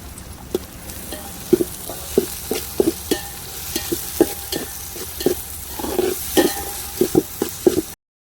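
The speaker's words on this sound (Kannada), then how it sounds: "ಈಗ ಟೊಮೊಟೊನ ಸೇರಿಸ್ತಿದ್ದೀವಿ. ಇದು ಹಾಕ್ಕೊಂಡು ಅಷ್ಟೇ ಒಂದ್ಸರಿ ಫ್ರೈ ಮಾಡ್ಕೋಬೇಕು" Tomatoes fry in a pan at an outdoor family camp in a garden, a soft sizzle under regular ladle taps and scrapes against the pan in a steady stirring rhythm, close by.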